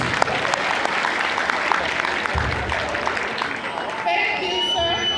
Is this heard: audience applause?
yes